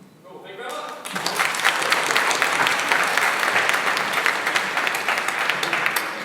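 Hackathon crowd applauds the demo presenters, a loud, full burst of clapping that swells after a brief quiet start and stays dense throughout.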